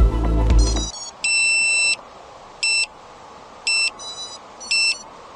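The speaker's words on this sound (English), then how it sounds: "But it's got a buzzer on it, so we're gonna have to listen really really carefully here" A loud burst of noise gives way to a series of shrill electronic beeps from an FPV freestyle drone's buzzer, some in quick double pulses, with gaps between, close and clear.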